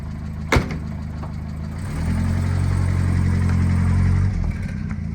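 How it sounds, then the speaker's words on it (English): A sharp click, then a 1939 Citroen Traction Avant engine cranks and catches, settling into a steady low idle that rumbles close by before easing slightly. "a quick video of startup and idling on this 1939 Citroen Traction"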